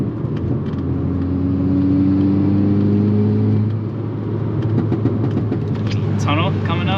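A loud Volkswagen Golf R Mk6 pulling hard on a wet mountain road, engine droning and climbing steadily from inside the cabin, then easing off, with occasional talk over it.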